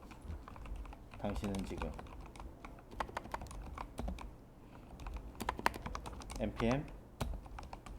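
Computer keyboard keys tap steadily as a command is typed for a Node.js npm package, close clicks running throughout while someone speaks over them in Korean.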